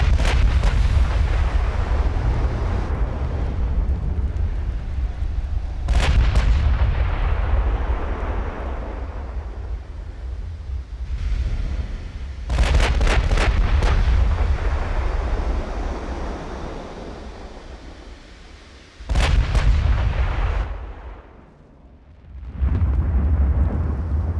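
Heavy naval gun turrets firing in the warship battle game Ultimate Admiral: Dreadnoughts, with deep booming blasts and rumbling continuing throughout, with several sharp, loud salvos standing out.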